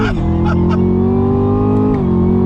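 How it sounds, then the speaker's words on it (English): A Chevrolet Camaro ZL1 accelerating hard in second gear onto a highway, its loud close engine roar rising steadily with a gear shift near the end. "Downshifting, using the paddles. Second gear. Time to merge. On throttle, here we go."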